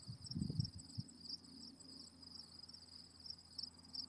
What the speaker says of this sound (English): That is crickets you hear when I'm all quiet.